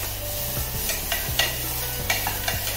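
A vegetable tempering with bafat powder is stirred in a pan, giving a run of rhythmic scraping strokes over a steady close sizzle, with no talking.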